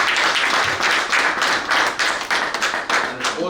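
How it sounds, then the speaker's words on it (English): An audience claps as encouragement at a disability booklet launch and Braille handover, with a dense, steady round of applause lasting a few seconds and a faint voice underneath. "I will be very demanding of more claps from the audience as encouragement."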